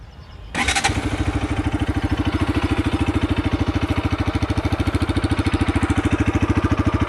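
A 2020 Bajaj Pulsar RS 200 motorcycle fires up after a brief starter whir, then settles into a steady, rapidly pulsing idle that stays loud and close to the end with no talking.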